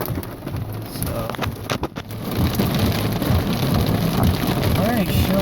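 Heavy rain from a strong thunderstorm with pea-sized hail drums loudly and steadily on a car in Reno, Nevada, a dense close patter with sharp impacts and traffic noise underneath.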